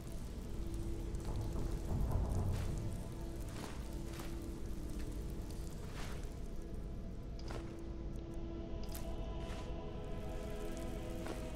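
Rain in the video game Skyrim, a constant heavy downpour with a low rumble swelling early on, like distant thunder, steady throughout without speech.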